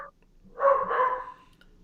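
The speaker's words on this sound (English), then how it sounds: "okay, whose dog is that?" A dog barks once or twice at a moderate distance in a quiet room, a single muffled bark-like burst lasting under a second with no talking over it.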